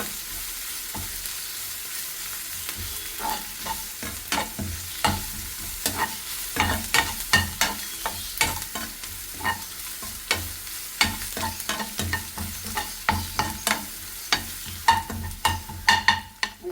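Crushed ginger and garlic paste fries in hot oil for Kerala stuffed mackerel, a close, steady sizzle punctuated by repeated scraping stirs of a spoon against the pan.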